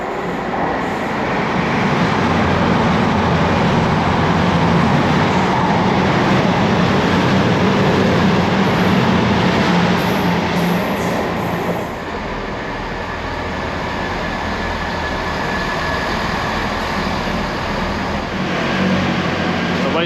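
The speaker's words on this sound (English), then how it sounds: "The first stage is a train from Teignmouth to Newton Abbot." Train at Teignmouth station heading for Newton Abbot, a loud steady rumble and rolling roar that holds for most of the stretch, easing slightly partway through and continuing close by.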